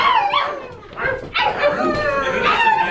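Several people bark and yip like dogs in short, overlapping vocal bursts, voices imitating the animal rather than real dogs, loud and close with a brief lull in the middle.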